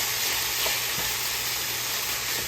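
Garlic sizzling as it hits a hot frying pan while cooking sausage, peppers and rice: a steady, bright, hissing sizzle that stays loud and even throughout, with faint stirring clinks.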